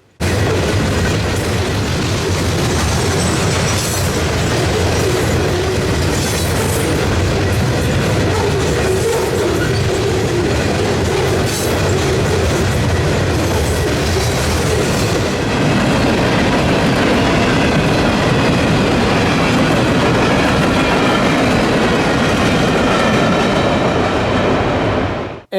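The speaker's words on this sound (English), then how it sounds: "This train was also inspected by the crew of 29P as it passed." A train rumbles steadily past on the tracks, loud and close, with continuous clattering wheels and a heavy mechanical roar throughout.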